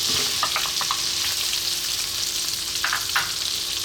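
Onion dropped into hot butter with cumin seeds hisses in a constant, loud sizzle, broken by a few quick clicks and scrapes of stirring.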